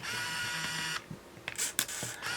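An Olympus Stylus Epic Zoom 115 35mm film camera whirs steadily with a motor drive, then gives several short shutter clicks and mechanical ratchet sounds at close range.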